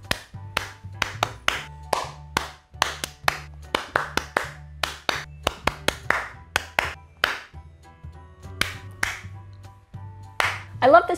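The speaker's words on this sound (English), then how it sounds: "You can use clapping patterns for a class to repeat back" Rhythmic hand clapping in a classroom call-and-response routine, crisp sharp claps grouped into short patterns and repeated back, with a low sustained tone beneath and a brief voice near the end.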